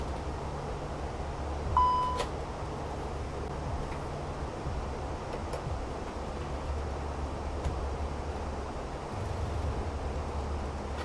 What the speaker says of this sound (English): What have we just had a beep for now?